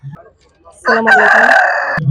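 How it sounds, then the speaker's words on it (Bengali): A rooster crows once, loud and close, at a poultry stall of a livestock fair in Adamdighi, Bogura, with a short voice just before and after the crow. "টাইগার মুরগি রয়েছে এবং ফাউমি মুরগি রয়েছে"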